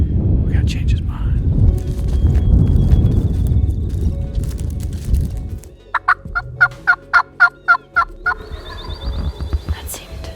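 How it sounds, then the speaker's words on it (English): A wild Eastern turkey gobbles in a Missouri spring woods, a rapid run of about nine sharp, evenly spaced notes at moderate distance, coming after a stretch of low rumbling background noise with quiet voices. "they'll delay and start gobbling again"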